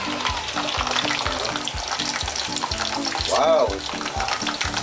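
Beef crispy pata deep-frying in hot oil, a loud, dense close-up sizzle with rhythmic stirring or scraping strokes repeating about twice a second, and one short exclaimed word partway through.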